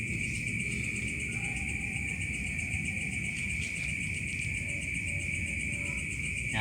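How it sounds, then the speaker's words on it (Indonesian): Crickets chirp at night in an outdoor spot, a continuous high, shrill trill holding steady throughout over a low background hum, with no voices. "suara jangkrik atau apa ini"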